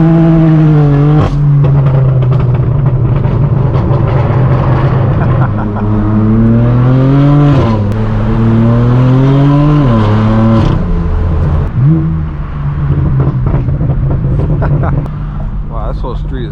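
Straight-piped BMW M4 driven through city streets near Hollywood Boulevard, its loud exhaust droning and rising with each rev, pitch sweeping up through gear pulls, with a voice talking over it.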